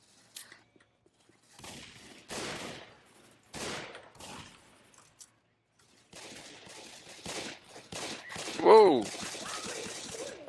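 Video game gunfire comes in scattered short bursts of rapid shots, moderately loud, with gaps between volleys and a person talking in between.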